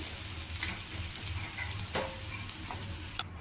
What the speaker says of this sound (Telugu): క్యారెట్, పెసరపప్పు అన్నీ ఫ్రై అయ్యాయి.